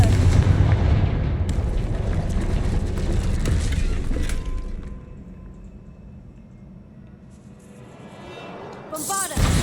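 The Confringo fire spell cast in Hogwarts Legacy: a loud, rumbling blast that fades away over several seconds, followed by a sharp crackling burst at the end.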